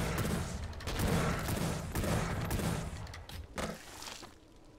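Shotgun blasts and gunfire from the retro first-person shooter Wrath: Aeon of Ruin, loud and dense with heavy low booms, a steady barrage that thins out toward the end.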